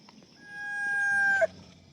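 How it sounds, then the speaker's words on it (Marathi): A rooster crows once in a rainy rural setting, a single drawn-out call rising and holding for about a second before a sharp clipped end, clear and fairly close against a quiet background. "कोंबडा कोकला पाठाचा"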